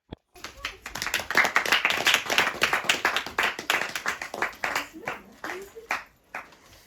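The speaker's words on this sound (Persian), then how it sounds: "یک تشویق بلند" Family members clap at an Eid celebration in Afghanistan, a short burst of close, distinct hand claps that builds quickly, then thins into scattered separate claps before fading out.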